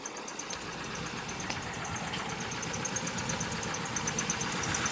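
A 1989 Dodge Dakota's 2.5-liter four-cylinder engine with throttle-body injection idles steadily, a rough, chugging drone with faint irregular knocking, heard up close and alone at a low, constant level.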